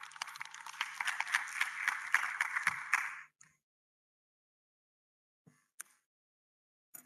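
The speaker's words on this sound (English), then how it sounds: "Please give her an applause." An audience applauds at a talk event on open local data, a burst of clapping lasting about three seconds before it stops abruptly, followed by near silence with a few faint knocks.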